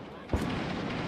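A grenade explosion in the video game Six Days in Fallujah, set in urban combat: one short, sharp boom near the start, followed by a steady wash of background game noise.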